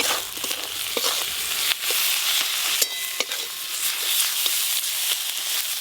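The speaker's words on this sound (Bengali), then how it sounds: "টমেটো কুচি আর গুঁড়ো মশলা দিয়ে একসঙ্গে কষিয়ে নেব" Chopped tomato and ground cumin, coriander and chilli powder with salt stir-fry in a pan, giving a steady bright sizzle. A spatula scrapes and knocks now and then, and no voices are heard.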